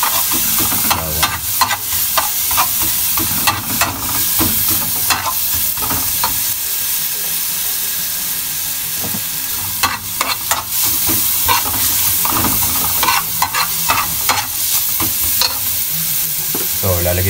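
Garlic frying in a pan until golden brown, a loud close sizzle broken by repeated scraping and stirring strokes in irregular bursts.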